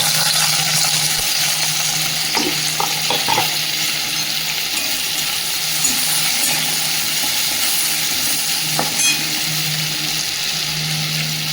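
Chopped onion and ginger fry in a little hot oil in a wok for a fish curry, giving a steady, loud sizzle throughout with a few soft clinks and stirring scrapes.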